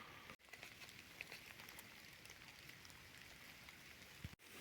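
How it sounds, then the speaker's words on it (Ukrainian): Light rain patters steadily through a forest canopy during a mushroom hunt in the Kyiv region, a soft, even hiss of drops on leaves with no talking. "Почався невеликий дощ."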